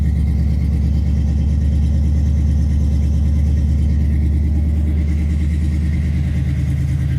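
A square-body truck engine idles with a newly fitted 2.5-inch exhaust that has small leaks, giving a steady, deep, low rumble with a regular pulse that stays close and loud throughout, with no talking.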